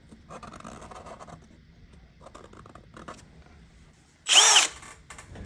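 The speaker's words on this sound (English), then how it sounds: "So we'll use a 5mm drill bit, and we'll drill these holes." Scratchy, intermittent scraping noises, then a single short, loud burst of a power drill with a 5mm bit whirring for under a second, drilling holes in a coffee vending machine.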